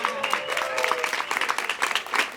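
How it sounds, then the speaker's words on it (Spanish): Audience at a talk on a dance law in Argentina breaks into steady, dense applause with scattered claps and crowd murmur, fairly close and continuous throughout. "¡Aplausito!"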